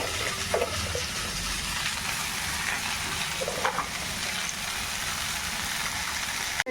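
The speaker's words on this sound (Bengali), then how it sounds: "যে রসুনগুলো ভাজা হয়ে গেছে, এবার এই শাকগুলো দিয়ে দেবো এর মধ্যে।" Leafy greens dropped into hot oil with fried garlic in a home kitchen pan: a continuous hissing fry, like steady rain, with a couple of brief clinks, close and even.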